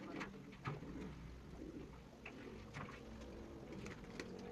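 Pigeons fresh from a bath give soft, low cooing calls, faint and somewhat distant, against a quiet background hum with a few light rustles.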